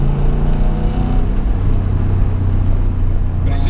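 A supercharged 4.4-litre V8 fitted to a light BMW E30 Touring sleeper, built to 500 bhp, roars steadily from inside the car, a dense, constant engine drone that sharpens slightly near the end.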